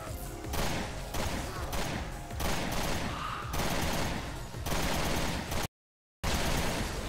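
Dense, loud bursts of assault rifle fire from the video game Resident Evil Revelations 2 raid mode, nearly continuous rapid shots with brief breaks and one sudden dropout of silence.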